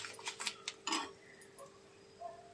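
Light scraping and tapping of a spoon in a pan while curry leaves, sesame seeds and flax seeds are stirred and fried, giving a few soft clinks and faint sizzle, quiet and close.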